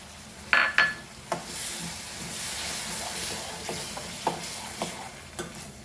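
Tomato paste is added to fried masala and stirred in a pan for Goan doyee bhaji. Loud, close utensil clinks open the sound, then a steady sizzle continues with scattered scrapes and taps of stirring.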